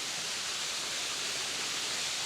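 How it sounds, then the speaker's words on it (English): Waterfall at an old rock formation, a steady broadband hiss of falling water with no breaks, fairly soft and continuous, with no voices heard. "Just sitting here and look at that waterfall."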